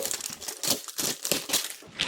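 An L.O.L. Surprise package is unwrapped, its plastic wrapper crinkling close up in repeated rustling bursts with brief pauses between, no talking.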